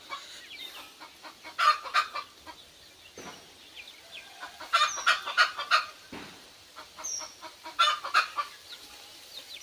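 Free-range chickens foraging on grass and leaves cluck in repeated bursts of short calls, several birds near and mid-distance, with quiet gaps between flurries.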